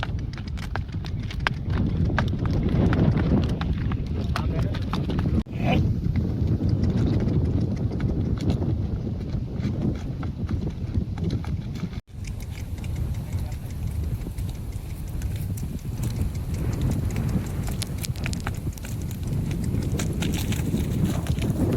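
A horse walks on a road, its hooves clip-clopping steadily and continuously at close range over a dense, noisy outdoor background.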